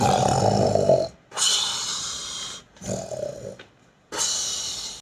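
Several voices imitate snoring in three loud bursts of rough, rasping snorts, separated by short pauses.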